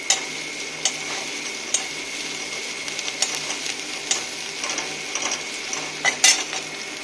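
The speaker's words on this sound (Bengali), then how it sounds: "পেঁয়াজটাকে ভেজে নিচ্ছি একটু আমি।" Onions frying lightly in a pan, a soft steady sizzle with periodic sharp scrapes and taps of a stirring utensil every second or so.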